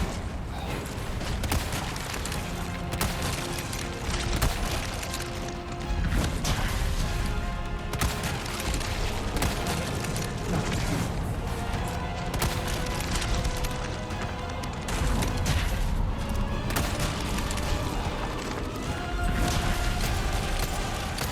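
Gunfire from Resident Evil 4 Remake aimed at a monster's glowing orange weak spot, with loud repeated shots and crashing impacts over a dense game soundscape that stays heavy and busy throughout.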